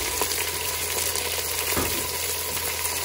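Chopped carrot, beans and capsicum frying in a pan for wheat rava khichdi, a steady close sizzle filling the whole stretch with faint stirring scrapes and no voices.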